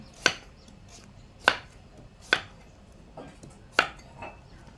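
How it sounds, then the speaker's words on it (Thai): A knife chops food on a board during home cooking, four sharp, distinct, close strikes spaced about a second apart with quiet pauses between, and no talk. "กำลังเริ่มหั่นแล้วจ้ะ"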